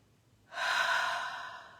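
A single close, soft breath during a guided relaxation exercise rises suddenly, holds for about a second, then slowly fades in a quiet room.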